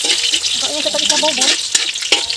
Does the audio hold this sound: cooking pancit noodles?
yes